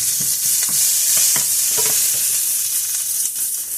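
Minced onions sizzle and fry in a pan for smothered chicken, a loud close hiss with scraping strokes of a utensil stirring them at an uneven rhythm.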